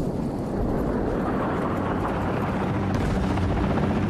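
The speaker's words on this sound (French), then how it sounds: "Merde! Un hélicoptère!" A helicopter in the video game Battlefield: Bad Company gives a steady, loud, dense rotor and engine roar that holds constant through the whole stretch, with no talk over it.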